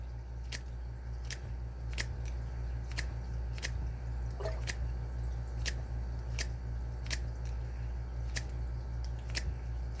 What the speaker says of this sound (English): let's see if we can get into this one using the zipping technique